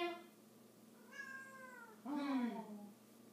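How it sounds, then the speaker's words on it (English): A little kitten gives two short, thin meows close by, the second louder and more drawn out, in a quiet indoor setting. "we also have a little kitten."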